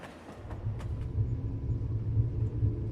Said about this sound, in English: At Edfu, the train begins to run alongside the Nile.